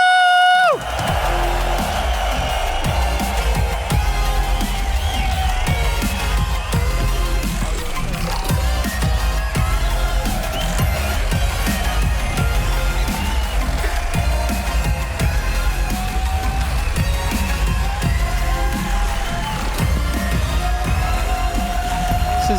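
A large conference crowd at a Bitcoin event cheers, whoops and yells in a loud, sustained roar that fills the whole stretch, with shouting voices mixed into the noise.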